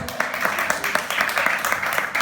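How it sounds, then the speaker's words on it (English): Audience applause for two guests on a show, a brief burst of clapping with a rapid, dense rhythm at moderate level. "guys, round of applause for both Habib and Zabina."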